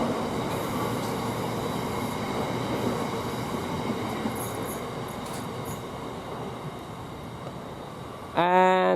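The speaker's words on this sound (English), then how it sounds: "we focused on this freight train" A freight train rolls through Derby Road station with a continuous loud rumble of wagons and wheels on track, ending in a sharp rising tonal squeal or horn-like burst near the close.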